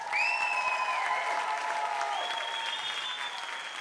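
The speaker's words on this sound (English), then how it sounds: "let's give him a huge round of applause" Steady applause from a comedy club audience greeting an older comedian at a new-comic competition, a dense wash of clapping that holds for several seconds while whistles and cheers rise over it.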